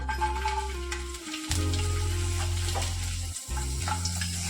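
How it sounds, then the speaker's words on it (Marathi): Garlic fries in four to five spoonfuls of hot oil in a kadhai for a spinach bhaji, a steady close sizzle with a low droning hum underneath and brief stirring pauses. "तेल गरम झाले त्यानंतर त्यात घालतोय आपण लसूण"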